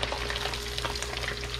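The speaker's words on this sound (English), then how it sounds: "We're done frying." Small bite-sized chicken pieces deep-frying in hot oil in a wok for Chongqing-style dry-fried chicken, a continuous crackling sizzle at moderate volume with no voices over it.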